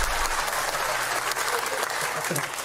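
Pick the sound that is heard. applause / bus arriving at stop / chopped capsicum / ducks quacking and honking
applause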